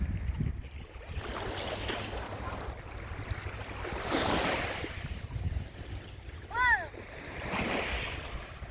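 Waves wash onto the beach at Mojácar in southern Spain, building in soft, broad surges every few seconds with wind noise over them, and a brief high bird call is heard near the end.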